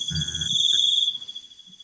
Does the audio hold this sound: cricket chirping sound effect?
yes